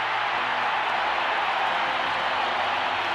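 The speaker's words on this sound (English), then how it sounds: "The crowd is already frenzied" A frenzied baseball crowd roars in a broadcast, a broad, steady wall of cheering noise from a large stadium audience with no break.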